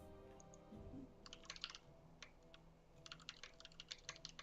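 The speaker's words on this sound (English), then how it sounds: "I was just typing it out because I didn't know if you had heard me" Short bursts of quick, close keyboard typing on a computer, light clicks in irregular clusters over a faint steady hum, with no talking.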